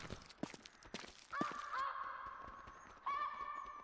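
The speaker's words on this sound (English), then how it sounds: "These friggin' geese, the flapping sounds like something running." Goose wings flap in quick rhythmic beats that resemble galloping footfalls, mixed with a few honking calls, in the hunting video game theHunter Classic.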